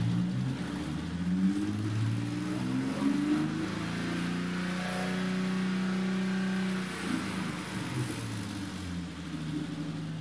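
A BMW E30 Touring engine revs up with a smooth rising drone, holds steady for a few seconds, then drops back to a low, even idle.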